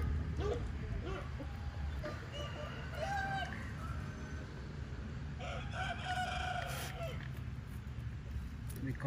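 An Aseel rooster crows outdoors, with two or three drawn-out crows rising above a steady background hum, moderately close but fairly quiet overall.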